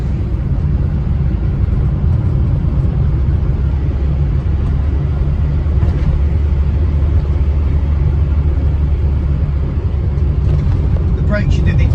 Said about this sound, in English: the whine you get from the A series is a sound all of its own